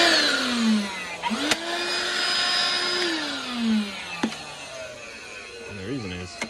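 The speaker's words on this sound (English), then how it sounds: "is the DeWalt mini vacuum" A DeWalt mini vacuum runs steadily and fairly loud beside a 2017 BMW 340ix during an air filter change, its whining motor pitch sliding up and down with sharp clicks and knocks throughout.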